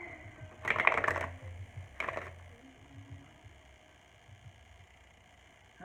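Tarot cards shuffled by hand, two short bursts of riffling close to the microphone, then quiet room tone.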